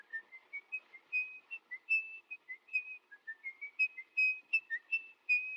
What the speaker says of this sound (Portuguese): esse assobio identificava o personagem antes de ele aparecer